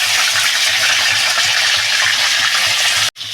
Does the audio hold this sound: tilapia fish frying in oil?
yes